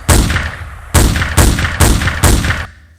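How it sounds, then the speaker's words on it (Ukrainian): Five sharp, loud gunshots fire in quick succession, each a broad burst with a short decaying tail, the last followed by near silence. "Джонні, стріляй! Стріляй, Джонні!"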